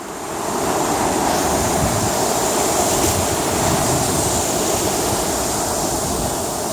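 Sea waves wash steadily onto Bağırganlı beach in Kandıra, Turkey, in a loud, continuous surf roar, close by and without pause, no voices heard.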